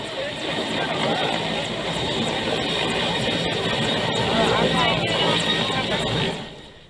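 A rescue helicopter hovers over the flooded Chitravati River near Anantapur, hoisting people by rope off a stranded JCB; a continuous, loud rotor roar dominates throughout before tailing off at the end.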